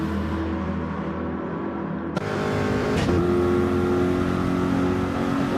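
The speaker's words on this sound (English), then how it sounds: "BMW versus Peugeot running up the hill" BMW and Peugeot race cars accelerate uphill at Monza in a racing game, engines droning and revving loudly, with a sharp rise in pitch and intensity as one car closes in and passes.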